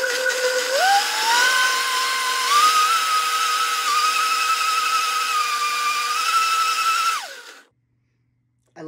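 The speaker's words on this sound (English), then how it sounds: "Blend it up and keep going." A Vitamix blender blending spinach, a loud close motor whine that ramps up in pitch, holds steady for several seconds, then winds down and stops, no voices.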